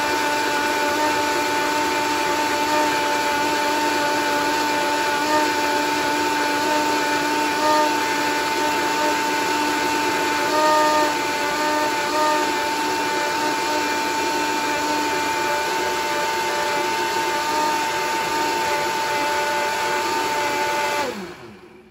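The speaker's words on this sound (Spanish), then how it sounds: "Entonces ahorita lo vamos a llevar a la licuadora. Lo vamos a licuar bien hasta que quede bien molidito." Kitchen blender pureeing cooked vegetables for a healthy vegetable soup, a steady loud motor whir running nearly unbroken for about twenty seconds before winding down at the end.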